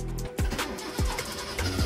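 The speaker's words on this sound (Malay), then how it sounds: "Dia tidak mau start. Kenapa dia tidak mau start?" A car engine with a weak battery cranks in three separate bursts, each a short rumbling churn that fails to catch, close and loud with brief pauses between attempts.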